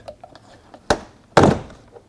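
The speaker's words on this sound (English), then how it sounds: "So I'm going to use this piece over here to pop the door panel." Two sharp plastic snaps from a Mercedes GL450 driver door panel being pried loose with a trim tool, the second louder and longer, set against quiet background rustling.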